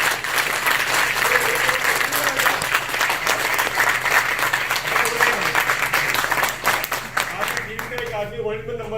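Loud, sustained audience applause fills a corporate insurance club gathering, dense clapping with cheering voices mixed in, fading toward the end.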